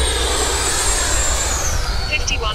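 A battery-powered RC airplane climbs vertically and flips over, its electric motor whining in a steady high tone that bends in pitch as it turns, fairly loud and close with a voice over it.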